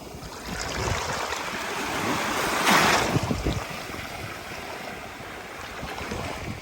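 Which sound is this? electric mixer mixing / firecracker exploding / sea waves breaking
sea waves breaking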